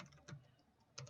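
Soft keystrokes tap on a computer keyboard, a few quiet clicks spread over a moment, faint and close.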